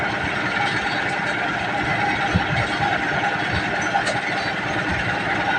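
A car engine idles steadily after a six-hour drive home, a constant mechanical hum with faint ticking running unbroken throughout, fairly close and moderately loud, with no talk over it.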